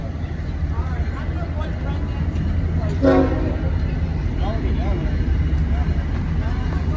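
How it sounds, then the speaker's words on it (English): A long freight train with many locomotives rolls through the LaGrange street crossing, a steady low rumble filling the scene while a short horn toot sounds near the middle, with people talking nearby. "And here comes the train"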